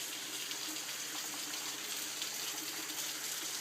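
Water drips and trickles behind a waterfall inside a cave, a faint steady wash of splashing water with no voices present.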